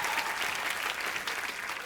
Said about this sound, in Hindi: यामी के लिए भी जोरदार तालियां